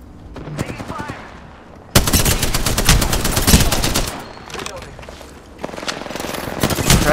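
Video game gunfire crackles in a loud, rapid automatic burst with short gaps between volleys, after a few isolated shots near the start.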